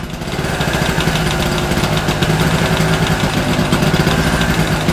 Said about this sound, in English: Let's just try and rev it up a bit more, just see if it start again.